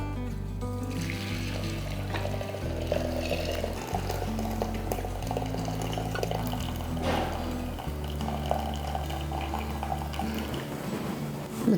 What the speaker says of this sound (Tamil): ஃபஸ்ட்டு இந்த தண்ணியை இதில் இருத்துடலாம்